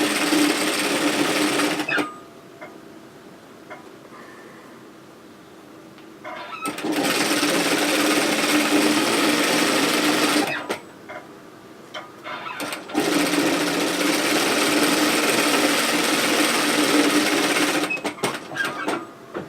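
A sewing machine stitching dress fabric runs in three bursts of steady rapid whirring, with quiet pauses in between and small clicks and handling noises around the stops.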